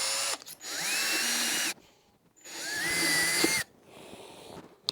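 A power drill bores pilot holes into a plastic condenser coil part for a DIY home still, in two steady whining bursts of about a second and a half each, loud and close, separated by a short pause.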